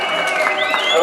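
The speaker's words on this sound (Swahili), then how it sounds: "Naomba tuwapigie makofi." Brief burst of applause from an audience at a Tunduma district council loan ceremony, steady clapping with some voices mixed in, fairly close and loud.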